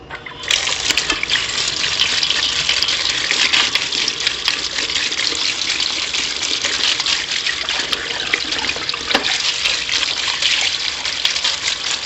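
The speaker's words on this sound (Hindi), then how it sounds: "और इसको अब मैं ज़रा ठंडे पानी के साथ वॉश कर लूँ।" Cooked pasta rinsed under cold running water from a kitchen tap, a loud, steady close rush and splash of flowing water lasting throughout, with no talk.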